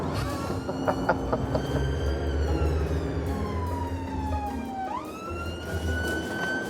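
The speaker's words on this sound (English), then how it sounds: "It's a lot of sirens this time of the morning." Emergency vehicle sirens wail through the morning air, with a rising and falling tone that sweeps downward, then climbs again, loud and steady over a continuous low traffic rumble.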